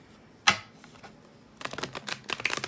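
Tarot cards are shuffled with one sharp snap followed by a rapid run of crisp riffling clicks, close and fairly quiet.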